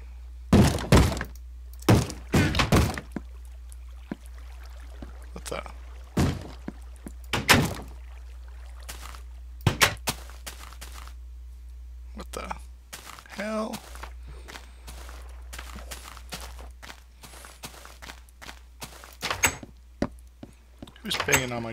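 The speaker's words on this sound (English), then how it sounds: "Who's banging on my doors?" Banging on doors in a video game comes as heavy, irregular thuds and knocks, clustered in loud bursts with quiet gaps between them, and a voice is heard speaking at points.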